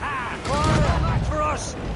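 Ship cannons firing in Assassin's Creed Rogue, a couple of heavy booms rolling under shouting crew voices.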